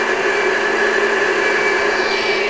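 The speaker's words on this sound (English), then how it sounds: "I'm gonna blend that up a bit, let it mix in." Blender whirring steadily as it mixes a whey protein milkshake with cookie-flavored protein powder and chilled Vita Coco, a loud continuous motor drone with no pauses.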